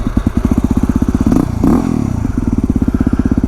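A Yamaha WR250R motorcycle on a forest trail in Stanislaus National Forest thumps along with a rapid, even single-cylinder pulse up close, briefly dipping and surging in the middle before settling back.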